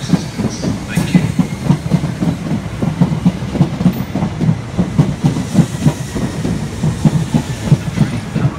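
A South Western train approaches Clapham Junction station loudly, with rhythmic clickety-clack of wheels over rail joints and a steady hiss, close by, no voices.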